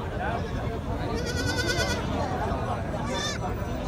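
A goat kid bleats in two short wavering calls amid the busy chatter and bustle of a crowded goat market, with people talking nearby.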